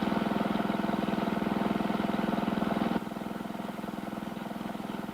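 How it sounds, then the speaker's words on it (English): A new garden tractor's engine runs steadily nearby with a rapid, even mid-pitched putter, dropping slightly in loudness partway through as it drives past. "The sound you're hearing is my friend Harry Cornell driving his new garden tractor."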